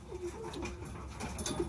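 Racing pigeons coo at a loft during a 168 km activation race, soft repeated low coos close by over steady outdoor background noise, no talking.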